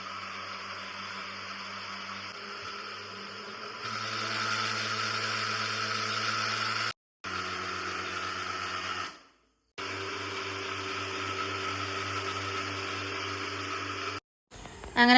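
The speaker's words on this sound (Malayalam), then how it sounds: "അപ്പം നമുക്കൊന്ന് നല്ലോണം ഒന്ന് അരച്ചെടുക്കാം" A mixer grinder whirs loudly as it grinds batter with jaggery water for unniyappam, running in steady bursts that cut off abruptly between pulses, with a brief start-up at the end.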